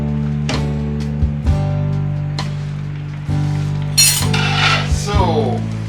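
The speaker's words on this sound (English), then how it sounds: "Lid back on." A metal lid clinks back onto a cooking pot of simmering pork adobo with pepper and bay leaf, a few close clatters and clinks over a steady low hum, with a brighter rattle near the end.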